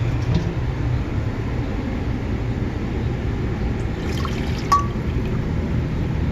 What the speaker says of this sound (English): And strain some of it right over the pot too.